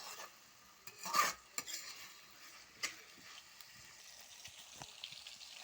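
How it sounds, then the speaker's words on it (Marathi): Tomatoes sauté in a pan for a soybean recipe, with a soft, quiet sizzle under several sharp, scattered scrapes and clinks as a spatula stirs them. "टोमॅटो नरम होईपर्यंत आपण ते परतून घेऊया"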